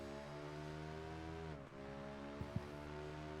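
A sports motorcycle in Project Gotham Racing 4 holds a steady, deep, bassy engine drone with strong harmonics, dipping briefly midway as it shifts, then two short sharp blips near the end, all loud and close.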